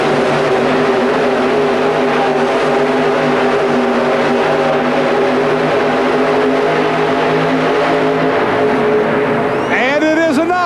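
David Willoughby's 4WD pulling truck Back in Time makes a full pull at a 1991 truck-pulling event at the Pontiac Silverdome. A loud, sustained, high-revving engine drone holds steady, then gives way to sweeping, warbling tones near the end.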